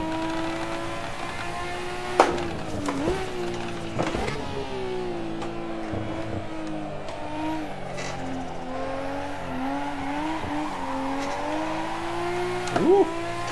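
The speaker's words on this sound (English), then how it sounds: "Ooh, big skids. Let's eat the rev limiter." A racing car in a video game played on a budget VR driving sim rig drones with a steady, buzzing engine note held high against the rev limiter, with a few sharp skid and impact bursts standing out.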